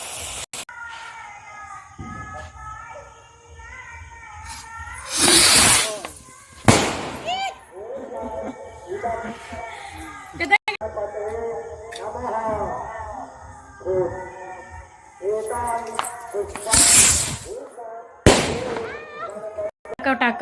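Loud Diwali firecracker bursts crack out several times, sharp and near, between quieter stretches of background chatter and children's voices.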